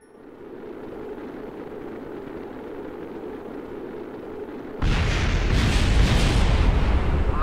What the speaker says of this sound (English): Landing with explosions